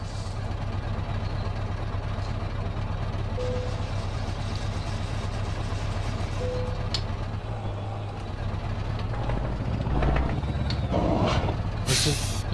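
Air brake on a Scania 164 480 truck hisses while the trailer is being uncoupled, a steady broadband rush over low engine idle, with a sharper burst of release near the end; no one speaks.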